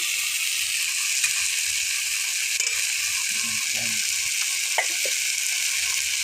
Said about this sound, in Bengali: লঙ্কা বাটাটা দিয়েও বেশ কিছুক্ষণ কষিয়ে নেব।